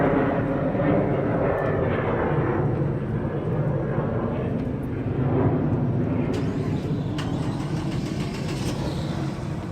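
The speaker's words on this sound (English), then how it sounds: "San Diego paused because of airplane." An airplane flying overhead near Belmont Park's south parking lot in San Diego: a loud, steady engine roar that swells slightly and holds throughout.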